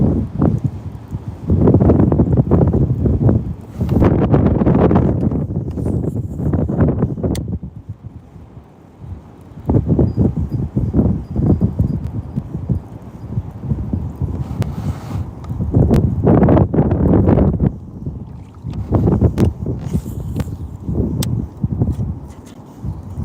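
Strong outdoor wind gusts buffet the microphone beside a bank while fishing for spring bass, roaring in long loud surges with a quieter lull in the middle.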